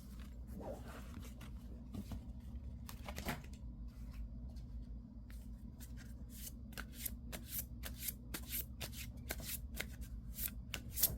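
A deck of tarot cards is shuffled before a draw, with soft papery riffles and rustles that grow busier and faster toward the end, close and fairly quiet, with no talking.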